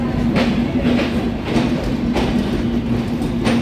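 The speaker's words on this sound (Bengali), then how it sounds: "এই আন্তনগর ট্রেনটি ছেড়ে দিল খুলনার উদ্দেশ্যে" An intercity train bound for Khulna pulls out of a station, wheels clacking in a steady rhythm over the rails with a loud, close rumble and a sustained hum underneath.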